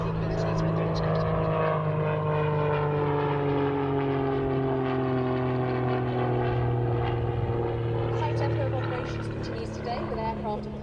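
Display aircraft performing ballistic rolls and half horizontal manoeuvres at an RAF Duxford Battle of Britain airshow, its steady engine drone holding throughout with shifting harmonics as it passes, under continuous public-address commentary.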